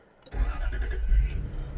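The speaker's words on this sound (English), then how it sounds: "I think the sound that we're hearing is sometimes the power steering pump a little bit" A Jaguar S-type V8 with a new engine cranks and catches, settling into a steady close idle with a faint whine like a power steering pump over the low rumble.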